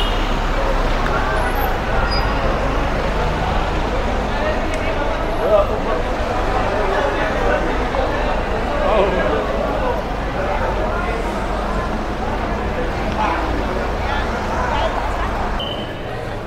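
Busy airport ambience in Bali, with a steady roar of road traffic, buses and cars mixed with a constant crowd babble, loud and continuous throughout.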